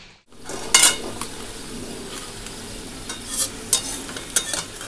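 Sweet pumpkin slices frying in oil in a pan, a steady soft sizzle with sharp scraping clinks of a spatula against the pan at intervals.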